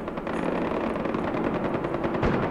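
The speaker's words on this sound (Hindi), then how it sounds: "भाई तो अभी आया ही हूँ, साथ ही गोलियाँ चलने लग गई" Rapid automatic gunfire in the video game Far Cry 4, played on PC during a hostage rescue mission: a dense, continuous burst of shots with a steady rattling rhythm, loud and close.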